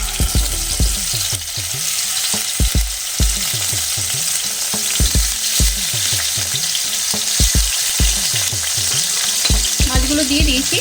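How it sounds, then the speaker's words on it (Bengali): Hilsa fish pieces fry in hot oil in a wok, giving a steady, loud close sizzle with repeated stirring and scraping strokes throughout, no voices. "এবার মাছগুলোকে আমি একটু ভেজে নিচ্ছি,"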